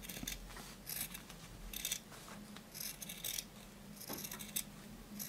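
Scissors snipping through fabric while trimming excess around a handmade bow tie: repeated short close crisp cuts in irregular bursts, quiet and alone.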